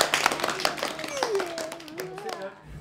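Participants at an embodied-emotions workshop applaud themselves, a loose scatter of hand claps at moderate loudness that thins out toward the end, with voices, including a child's, talking over it.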